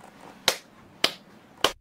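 Three sharp hand claps made before filming oneself on camera, used to sync footage later; close, crisp and evenly spaced about half a second apart, with nothing else around them.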